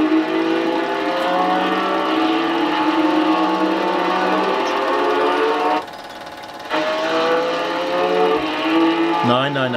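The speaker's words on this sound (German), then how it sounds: "And so they are driving. Porsche training again." Porsche race cars at the 1976 Mainz-Finthen airfield race, engines droning and rising steadily in pitch as they pass, loud and sustained with a brief dip before roaring again.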